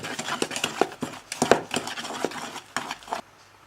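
Flour and 50 g of butter pieces mixed together in a bowl for a quick brioche dough, giving close, rhythmic scraping and thudding strokes in quick bursts that stop near the end.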